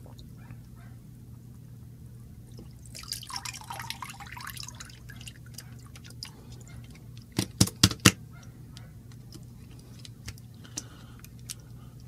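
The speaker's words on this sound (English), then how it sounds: "let's just let them get full of water right there." Water poured and dripping over a Swatcom Active8 hearing-protection headset, a soft splashing wash followed by a few sharp drips and scattered ticks over a low steady hum, with no talking.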